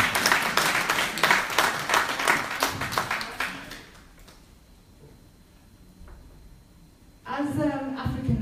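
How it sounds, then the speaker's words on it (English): Audience applause at a forum for African, Afro-Caribbean and Asian women in politics, a dense burst of clapping for about four seconds that fades out before speech resumes. "please clap for my mother."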